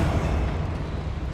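A Confringo blasting spell explodes in Hogwarts Legacy, a short, loud rumbling burst with a broad low boom that fades slightly over its brief length.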